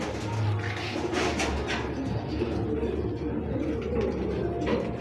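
Saddle pied racing pigeons coo in low, soft murmurs near at hand, with a steady background rustle and no one speaking.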